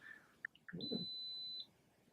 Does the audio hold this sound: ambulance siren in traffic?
no